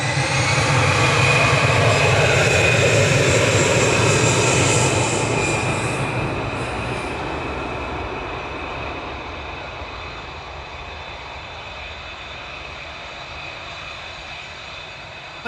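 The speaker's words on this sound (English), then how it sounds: "departing now is EasyJet 3838 to Milan, OE IDO, and A320 Classic" EasyJet Airbus A320 Classic jet departing Manchester Airport, a loud, broad engine roar at close range that slowly fades and thins as the aircraft moves away, with no voices over it.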